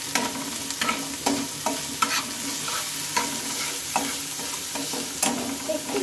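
Chopped garlic, ginger and onion fry in a pan under a steady hiss, punctuated by regular scraping strokes of a spoon roughly every half second, close and clear with no voices.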